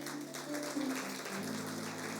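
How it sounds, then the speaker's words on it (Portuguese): A church congregation gives a faint, steady wash of applause for its guests, with a low hum underneath. "Uma salva de palmas para os nossos convidados"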